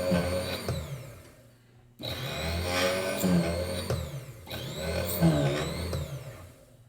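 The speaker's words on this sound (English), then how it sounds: "And I'm going to drill right straight through to the mortise." A high-speed rotary tool spinning at around 10,000 RPM drills straight through the wood of a violin bow toward the mortise, a loud steady whine that cuts off briefly and then resumes in sustained runs.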